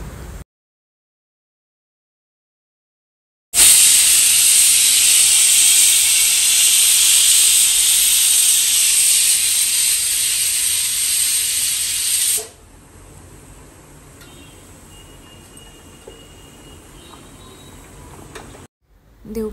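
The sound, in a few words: pressure cooker whistling and releasing steam while cooking dal rice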